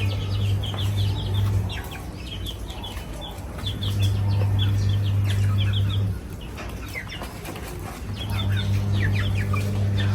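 Chickens cluck and chatter in bursts over a low steady hum, several birds nearby with occasional wing flutters.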